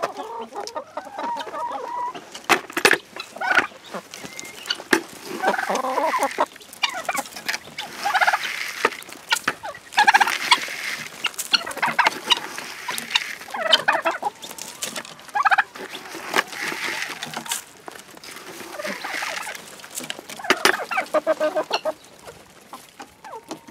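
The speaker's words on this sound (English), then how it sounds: "Hey, turkeys." Turkeys gobble repeatedly in bursts, mixed with clucking chickens, close by and fairly loud, the calls overlapping in an irregular flock chorus.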